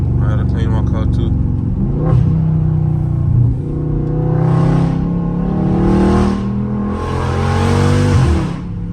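A loud Dodge Charger Scat Pack revs hard while being driven on the street, its deep engine roar swelling repeatedly in long bursts, close and continuous, with people talking over it.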